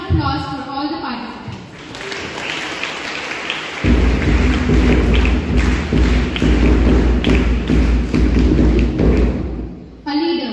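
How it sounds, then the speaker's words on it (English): A crowd claps at a school's National Education Day celebration at KV ONGC Ankleshwar, building into loud, dense, sustained applause over a deep rumble that lasts several seconds before easing off. "Now, I would request you to give a big round of applause for all the participants."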